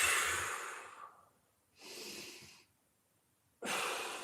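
Deep, heavy breaths during a floor mobility exercise: a long exhale, then a pause, a second breath, another pause and a third breath starting, close and fairly loud, with no talking.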